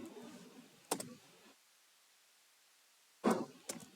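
Someone typing Java code on a computer keyboard: two short clusters of close, crisp key presses separated by a quiet pause.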